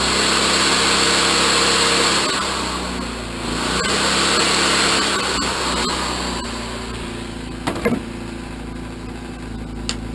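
A Sportsman inverter generator runs in economy mode at close range, a steady engine hum whose pitch and load dip and recover as an older, heavy corded drill draws power. Brief clicks sound near the end.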